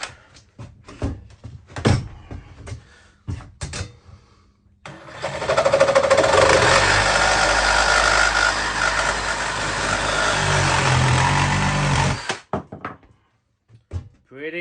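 A power saw fitted with a Milwaukee blade makes one steady, loud cut lasting about seven seconds, with brief speech and a few knocks before it and short talk after it winds down.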